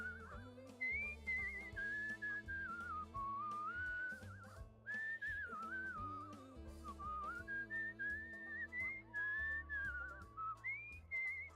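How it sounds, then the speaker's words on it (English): A loud, wavering melodic whistle carries over game music with steady chords and a beat, rising and falling in long phrases through the whole stretch, with no talking. "Kind of a shame that the whistling like overshadows the music"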